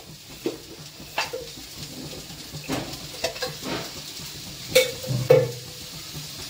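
Garlic frying in a little oil in a pan, a soft sizzle running underneath with several sharp clinks and scrapes of a spoon stirring against the metal, close by and fairly quiet.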